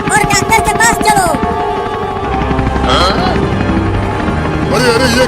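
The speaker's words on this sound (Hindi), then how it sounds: "अब हेलीकॉप्टर को ऊपर करो और डॉक्टर के पास चलो।" A cartoon helicopter lifts off, its chopping rotor whirring steadily and loudly beneath bright music and cartoon voices, with short sweeping effects along the way.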